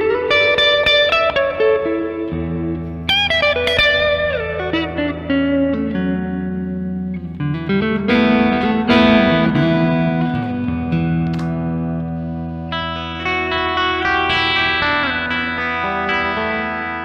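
Electric guitar run through the hall-style reverb of a Caline Ragnarok reverb and delay pedal, with ringing chords, bends and single-note lines trailing into long washes of reverb, loud and steady with no talking.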